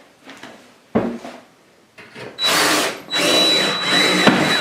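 A power drill bores holes through shower tile for lag bolts to mount a grab bar. After a few light taps and knocks, two loud sustained drilling bursts whine close by.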